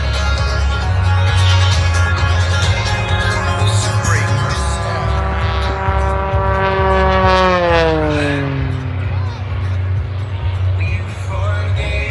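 An aerobatic airplane performs a backflip and a half at the Jones Beach air show on Long Island, its engine droning loudly and then dropping sharply in pitch as it recovers inverted, with crowd and background noise throughout.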